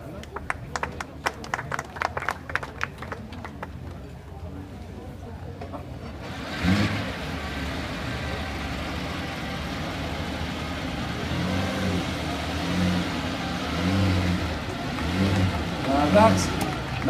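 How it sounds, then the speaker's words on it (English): A Maserati V4 sixteen-cylinder racing car revs at the Concorso d'Eleganza Villa d'Este 2014, a sustained loud engine roar with swelling surges after an opening stretch of applause and crowd noise. "Now that's what 16 cylinders sounds like."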